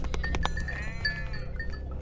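A flock of sheep bleat in foggy mountain terrain as a storm sets in, several wavering calls overlapping near and farther off over a low rumbling background, with faint clinks of bells.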